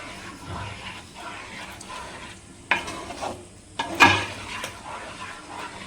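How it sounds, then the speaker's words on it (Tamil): A wooden spoon stirs a fruit custard mixture, producing soft, continuous scraping and swishing with a few sharper knocks and clatters near the middle, fairly quiet and close, with no talking. "நான் இது போல் ஒரு உட் எடுத்துருக்கேன். ஸோ இப்போ பாருங்கள், நல்லா மிக்ஸ் பண்ணிவிட்டு"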